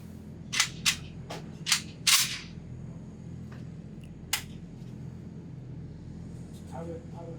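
A 1945 Springfield Armory M1 Garand rifle fires at a 20-yard range, giving several sharp cracks in quick succession and then a lone later shot, heard somewhat distant over low background hum.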